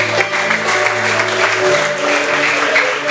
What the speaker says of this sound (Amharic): ለጌታ ክብር እልልታ ጭብጨባ